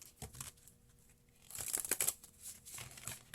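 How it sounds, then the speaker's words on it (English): A deck of tarot cards being shuffled gives close crinkly riffles and soft taps, with a brighter burst of card rustling in the middle and quieter handling before and after. "One more shuffle, they say."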